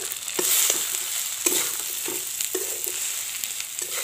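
Taro being stirred with turmeric, salt and cumin paste in a frying pan, a steady sizzle broken by repeated scraping strokes of the spoon roughly every half second to second, close and moderately loud with no talking.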